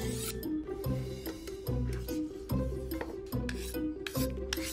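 A kitchen knife is drawn repeatedly across a sharpening tool, giving about six rasping, scraping strokes in a steady rhythm. The strokes are close and fairly loud, with no talk.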